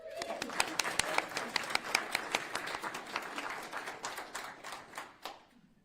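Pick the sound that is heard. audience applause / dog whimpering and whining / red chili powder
audience applause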